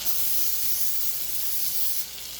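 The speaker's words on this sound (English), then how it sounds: "I spray that, okay?" A steady hiss of cooking spray from an aerosol can coats a clear baking dish, running without a break for a couple of seconds, close and fairly loud.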